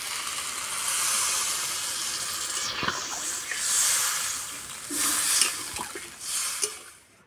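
Water is poured into a hot pan of tilapia curry with potato and green banana, bringing a loud, sustained sizzle and hiss that rises and falls with bubbling, close up.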